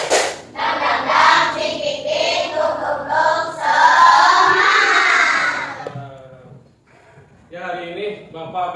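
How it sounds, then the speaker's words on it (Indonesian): A classroom of students performs a rhythmic 'tepuk semangat' spirit clap, loud young voices chanting in bursts with claps mixed in, then a short pause before another chanted phrase. "Bapak minta coba kalian tepuk semangat"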